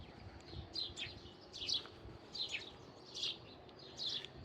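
Birds chirp in short, bright bursts of repeated calls along a street in Tanzania, fairly close, over low traffic and street hum.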